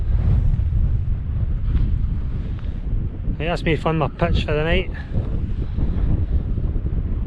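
Strong wind buffets the microphone on the sheltered shore of a Cairngorm mountain loch during a wild camp, roaring steadily throughout, with someone speaking briefly in the middle.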